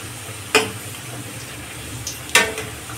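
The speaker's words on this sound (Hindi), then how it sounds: "मीडियम फ्लेम पर ही इसको तलना है, तभी ये अच्छा क्रिस्पी बनेगा।" A crunchy salty snack fries in oil over a medium flame with a steady, close sizzle, broken by two sharp bursts of crackle or spoon scraping about two seconds apart.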